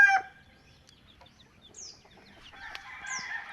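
Belgian black chickens calling in a farmyard: a few short clucks and a distant rooster crow, with scattered bird chirps over a quiet outdoor background.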